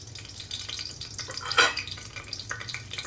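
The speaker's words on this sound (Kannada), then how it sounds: "ಎಣ್ಣೆ ಕಾಯ್ತು, ಬೇಗ ಏನು ಇಟ್ಕೊಂಡಿದ್ನಿ ಎಲ್ಲ ಪಲಾವ್ ಮಸಾಲೆ ರೆಡಿ ಮಾಡಿ ಅದೆಲ್ಲ ಹಾಕ್ತಾಯಿದ್ದೀನಿ ನೋಡಿರಿ." Pulao masala sizzles steadily in hot oil as a spoon stirs it around the pan, with a continuous close crackle and a brief louder scrape midway.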